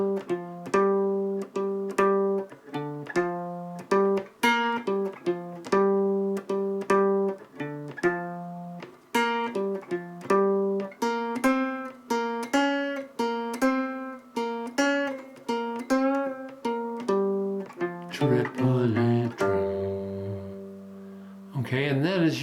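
Slow, simple blues lead on guitar: single plucked notes ring out one after another in an even, unhurried rhythm, close and clear. The phrase ends in a brief burst of busier, noisier sound.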